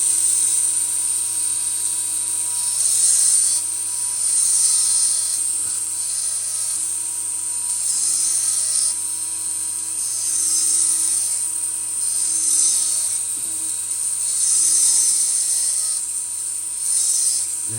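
Small high-speed rotary tool carving teeth into the blade of an Opinel knife, a steady shrill whine that swells and dips in repeated passes, close and continuous with no talk.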